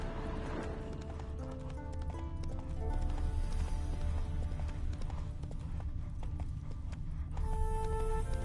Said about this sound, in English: Prints are deep. Horse was carrying a heavy load.